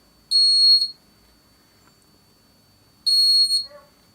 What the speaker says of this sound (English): gate open, gate close and buzzer turn on